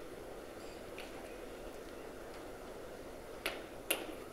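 A snap fastener closes on a boat's Bimini top in a quiet marina: a soft click, then a sharper, crisp snap near the end, close against faint background hiss.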